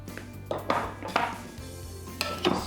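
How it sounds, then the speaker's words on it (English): Seasoned vegetables being stirred in a bowl, a series of close clinks and scrapes of a utensil against the dish in an irregular rhythm. "Stir them all around."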